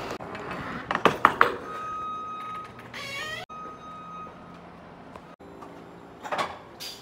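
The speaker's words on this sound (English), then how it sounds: "the freight is like really leaning right here, so I got to be careful as I open this door" A semi-truck trailer door is opened with a cluster of sharp metallic clanks and rattles, then a rising, wavering metal squeal and scrape, followed by quieter knocks and a final rattle.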